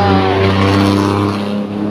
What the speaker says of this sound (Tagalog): May dumaan po kasi along the highway lang tayo kaya marami pong magulong sasakyan, maingay.